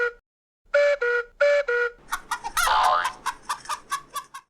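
A cartoon rooster gives a rapid series of loud, clipped clucks, first in two short bursts and then in a quicker run of squawking calls.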